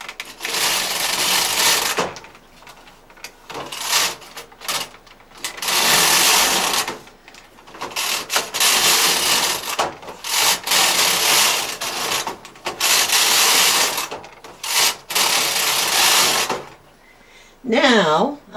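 Bond knitting machine carriage sliding back and forth while casting on yarn, a loud repeated mechanical rasping and rattling in bursts with short pauses between passes.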